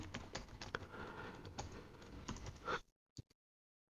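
Rapid typing on a computer keyboard during a Google Ads keyword setup, dense clicking keystrokes for nearly three seconds, then a pause and a couple of last isolated taps.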